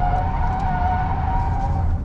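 Tire squeal from a PHEV car drifting in rear-wheel-drive electric mode, a steady continuous screech heard close and loud with low road rumble beneath, no engine roar.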